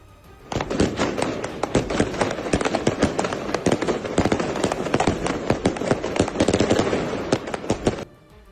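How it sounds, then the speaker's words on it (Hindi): Firecrackers go off in a dense, rapid string of sharp cracks and pops on a street in Lebanon, loud and continuous for several seconds before stopping abruptly. "लोगों ने बीच सड़क पर पटाखे जलाए।"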